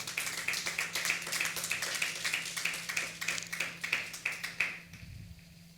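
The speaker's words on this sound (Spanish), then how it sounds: "Alguien déle un aplauso bien fuerte al Señor." A church congregation at a Spanish-language service claps in rhythm, loud and steady for about five seconds before the applause stops abruptly and leaves quiet room tone.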